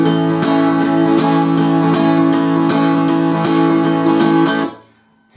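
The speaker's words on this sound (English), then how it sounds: "The strumming pattern I use sounds like this." Rock 'n' roll rhythm guitar strumming a song's pattern, with steady, evenly spaced down-up strokes ringing loud and close, played alone before the chord cuts off near the end.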